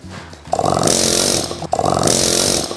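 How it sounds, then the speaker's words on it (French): A stone sculptor's pneumatic hammer roughs out a block of stone, chattering loudly and close in two sustained bursts separated by a brief pause. "on s'aide aussi pas mal par les marteaux pneumatiques"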